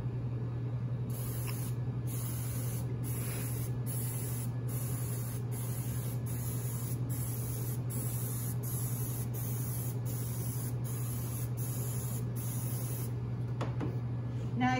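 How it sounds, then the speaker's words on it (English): Cooking spray is released in a rapid series of short hissing bursts onto cookie cutters for bird seed ornaments, regular and close, with a steady low hum underneath. "For the cookie cutters, you're going to want to spray them to pop them out a lot easier"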